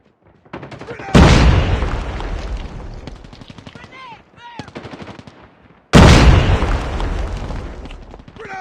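Two heavy booming blasts from Call of Duty Mobile gameplay, each a sudden loud hit with a long decaying rumble, separated by a few seconds, with in-game voice callouts between them.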